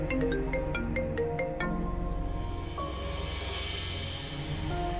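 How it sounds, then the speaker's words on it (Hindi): A phone ringtone plays a bright repeating melodic pattern, loud and close, with the tones shifting into a sustained swell in a drama scene, no talk over it. "किसका फोन है? साहब का फोन है।"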